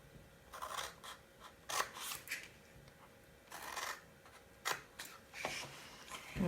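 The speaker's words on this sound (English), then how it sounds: "you're just going to cut a little triangle in both pieces" Scissors snip a small triangular tab into papercraft pieces for a dog kennel gift box, a handful of crisp, separate cuts with short pauses between them, close up and fairly quiet, with no talking.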